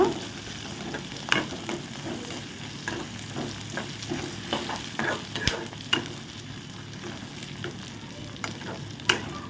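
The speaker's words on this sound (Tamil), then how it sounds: "இந்த மாதிரி நல்லா வதக்க" Kola urundai mixture with roasted gram sizzles steadily in a pan while a spoon scrapes and stirs in irregular strokes, with sharp clinks of metal at intervals and no voices.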